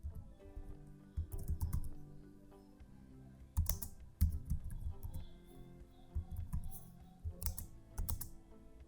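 Bursts of computer keyboard typing while code for an employee's first-name property is entered, clicky keystrokes in uneven runs with short pauses, close and fairly quiet, no talking.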